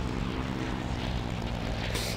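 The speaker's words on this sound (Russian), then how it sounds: "И это вертолет." Helicopter engine and rotor in Halo Infinite, a steady loud rumbling drone that holds constant throughout with no talk over it.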